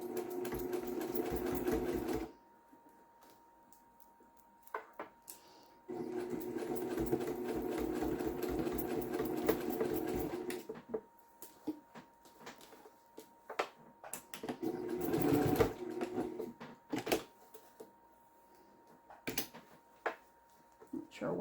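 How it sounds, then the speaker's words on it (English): A sewing machine stitches a scrap fabric headband in several bursts of steady whirring, close and fairly quiet, with short pauses and handling clicks between runs. "I probably sew over it way too many times"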